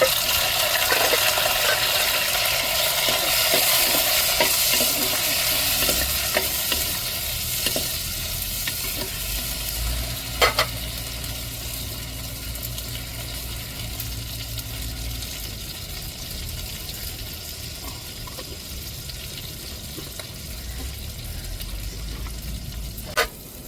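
Tomatoes, chili and curry leaves frying in a pan for a ground-masala fish curry, with a steady close sizzle and occasional scraping stirs and clinks of a spoon against the pan throughout.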